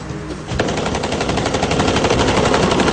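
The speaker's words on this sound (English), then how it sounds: "They opened up on us with a 30-round burst" An automatic rifle fires a sustained 30-round burst in the North Hollywood bank robbery shootout, a loud, rapid, continuous rattle of close gunshots that begins after a short quiet moment.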